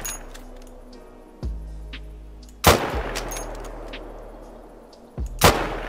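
Rifle shots in the hunting video game theHunter: Call of the Wild, firing 7.62x54 rounds, three sharp, separate shots a second or more apart, each with a short fading tail, and metallic clinks between them.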